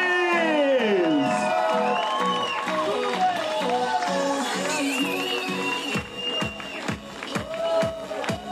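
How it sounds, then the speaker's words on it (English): Applause and cheering from a large crowd honouring the teams at the Saudi World Series International Finals endurance event in Campillos, Spain: a dense, steady roar with whoops and whistles, giving way to scattered loud claps near the end. "Let's make one big round of applause of best teams in Saudi World"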